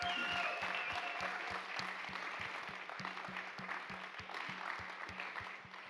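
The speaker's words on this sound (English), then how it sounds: "Come on, give them a big round of applause" Church audience at a Mother's Day service applauding the moms, a steady wash of clapping from many hands that slowly fades, with a rhythmic low thumping beat running underneath.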